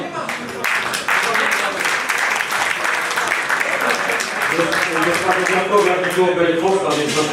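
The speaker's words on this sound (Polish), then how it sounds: "Myślę, że należy grać im brawa gorących." Audience applause at a season-closing ceremony in Katowice, a dense, steady burst of clapping from a crowd that runs loud and continuous throughout, with faint voices mixed in.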